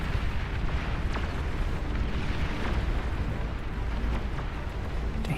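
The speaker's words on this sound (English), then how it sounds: "Oh shit, that artillery" Artillery shells pound a large battlefield in the real-time strategy game Beyond All Reason, a dense, continuous roar of overlapping explosions and rumbling blasts with no pauses between impacts.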